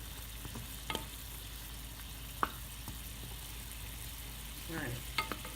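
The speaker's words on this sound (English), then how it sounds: "Let's stir this around." Ramen ingredients stirred in a hot pan over a faint, steady sizzle, with a few scattered spatula taps and scrapes, the loudest near the end.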